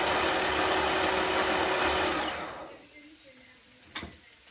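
A mixer blends homemade tzatziki sauce with a loud, steady whir that cuts off partway through, leaving quiet room sound and a short knock.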